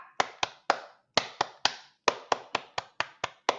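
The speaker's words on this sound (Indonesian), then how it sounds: "Masih ingat tepuk pramuka?" A school group at a vocational school orientation performs the scout clap, sharp rhythmic hand claps in a quick patterned sequence with short pauses between bursts, crisp and close.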